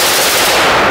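Full-auto fire from four AR rifles combined into one mount at a Las Vegas shooting range, a continuous, very loud, dense burst of rapid shots filling the whole moment.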